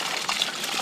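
Cold, clear spring water trickles steadily from a mountain water source, a continuous close-up watery babble with no voices.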